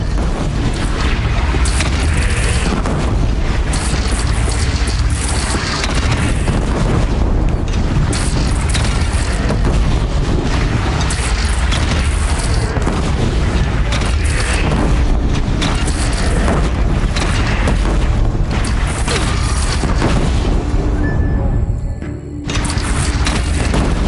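Cannon fire from a bandit clan's single cannon during a battle in Horizon Zero Dawn. A dense, loud barrage of booms and blasts rolls on without pause over a thick, roaring battle din.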